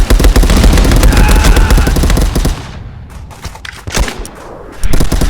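An MG1917 machine gun blazes in an online war game, a dense loud burst of rapid automatic fire for about two and a half seconds, then scattered distant shots and booms before another close burst near the end.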